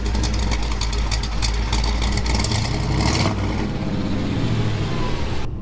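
A loud V8 engine with a new Lyell's exhaust revs hard with a throaty, rumbling exhaust and audible cam, then settles back into a deep, lumpy idle.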